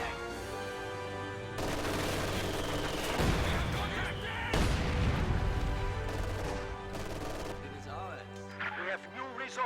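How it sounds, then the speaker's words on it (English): A demo charge detonates in a strategy war game amid ongoing battle noise, with heavy blasts and scattered gunfire layered over a continuous droning backdrop. "throwing down a demo charge."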